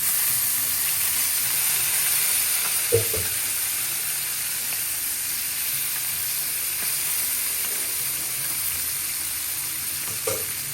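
Hot oil sizzles and spits steadily in a pan of coconut-milk mung bean stew, a close, continuous frying hiss with a couple of brief clinks or pops.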